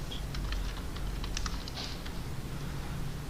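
Quick, light clicking of a computer keyboard being typed on while writing HTML code, a short burst of keystrokes over a steady background hiss.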